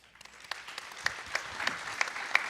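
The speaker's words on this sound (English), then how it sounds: "give you all a round of applause, please" Audience applause at a community discussion in Portsmouth, starting faint and swelling as more people join, with distinct individual sharp claps standing out from a thin crowd clapping.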